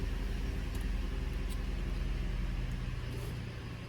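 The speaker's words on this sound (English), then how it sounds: "So let's fire it up here." A 2019 Ford Flex Limited engine runs at a steady low rumbling idle, close and continuous, easing slightly toward the end.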